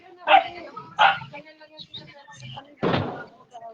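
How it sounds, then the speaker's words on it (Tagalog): Dogs barking in short loud bursts, three main barks spread over a few seconds, with quieter yips and background sounds between them. "mga aso yun eh"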